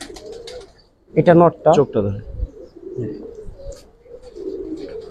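Black Giribaz pigeons at a loft give a short burst of throaty cooing, close and clear, while someone talks over and around them.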